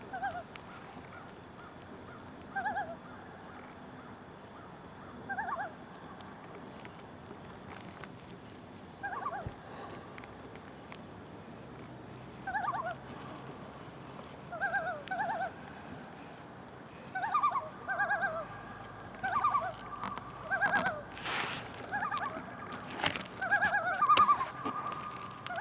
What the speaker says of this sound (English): the loons were starting to call and come in